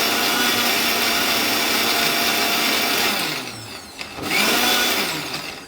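Kitchen mixer grinder churning mango with milk, a loud steady whirring blend that slows and dips briefly before surging back up in short pulse-mode bursts.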